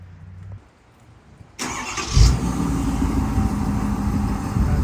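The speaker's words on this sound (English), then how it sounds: "I'll do the remote start, and actually I gotta do it with my phone" A Ford F350 pickup with Banks ram air intake and 5-inch exhaust is started remotely outdoors; after near quiet the engine cranks and fires with a sudden surge, then settles into a steady low idle rumble.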